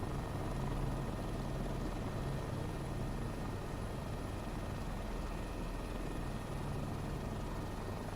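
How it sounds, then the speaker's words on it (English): Helicopter in Microsoft Flight Simulator 2024 on approach to a heliport near Whistler, a steady loud rotor drone with low rhythmic blade slap and engine whine continuing throughout, with no talking. "There's the blade slap. Now I can hear it."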